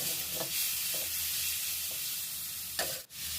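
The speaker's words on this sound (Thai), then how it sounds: "เบคอน 150 กรัมหั่นเล็ก ๆ แล้วนำไปทอดครับ" Soft, continuous sizzling of chopped bacon frying in a pan, with a few light scraping stirs and a brief clatter near the end.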